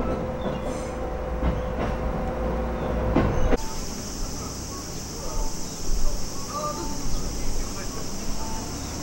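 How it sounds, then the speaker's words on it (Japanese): A train runs along railway tracks near Sekiyama station in Japan, a steady rumbling roll with faint clacking and a brief squeal, the sound changing abruptly partway through, moderately loud and continuous. "運転席には誰もいないのに列車前に走る"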